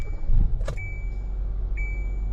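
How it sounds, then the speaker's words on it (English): A 2014 Kia Soul engine gives a very short crank and catches, with a brief burst of starter noise followed by a steady idle hum and a faint electronic tone. "that was a very short crank. That sounded normal."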